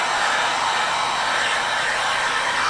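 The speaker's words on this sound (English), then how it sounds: "like to heat it up just to get the tape a little warmed up and heat up the panel as well" A heat gun blows steadily on 3M adhesive tape and a car panel, a loud, even rushing hiss held close without a break.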